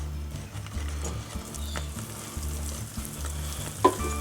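Caramel for coating cheese puffs being stirred in a pot as vanilla extract goes in, a steady low sizzle and bubbling with scraping spoon movements and one brief sharper clink near the end.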